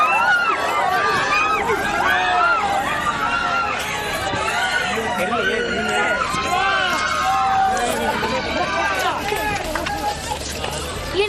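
Fans cheering as actor Vijay's luxury car leaves his house: a dense crowd of excited voices shouting and chattering together at close range, loud and continuous throughout with no pause.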